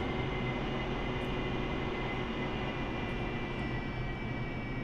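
An AV-8B Harrier jet lands in DCS, a loud, steady, broadband jet engine roar with a faint whine that holds unbroken throughout.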